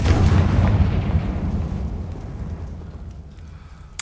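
Confringo fire spell explosion in the video game Hogwarts Legacy, a heavy deep boom that bursts loudly at once and then rumbles away in a long decaying roar, with no talk over it.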